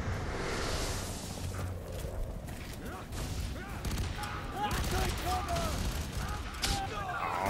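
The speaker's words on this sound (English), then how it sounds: "It's a burst fire weapon." Burst-fire weapon shots in the shooter game F.E.A.R. 3, dense repeated volleys crackling over a busy battle mix, with a voice talking over parts of the action.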